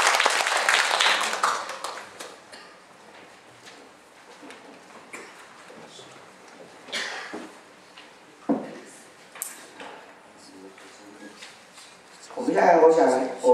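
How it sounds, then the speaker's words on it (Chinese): An audience claps at the opening ceremony of a Chinese medical aesthetics association meeting, with a burst of applause at the start and another near the end and a speaker talking in between. "掌声鼓励，谢谢。"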